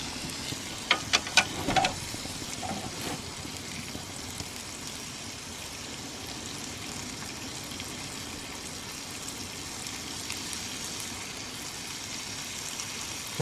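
Bacon frying in a pan inside a van, a steady soft sizzle at low level, with a few brief clinks and stirring knocks near the start before the even hiss carries on alone.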